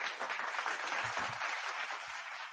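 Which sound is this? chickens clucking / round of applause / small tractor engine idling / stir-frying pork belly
round of applause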